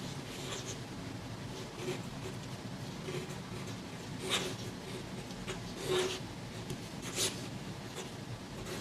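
A flexible fountain pen nib scratches across paper in soft, continuous strokes, with a few sharper scrapes standing out, close and quiet.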